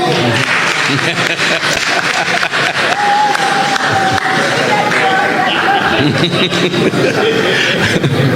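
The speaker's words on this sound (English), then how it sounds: "round of applause, please." Applause and cheering from an audience at a government ceremony where farmers and officials are called forward, with clapping mixed with laughter and chatter from the crowd.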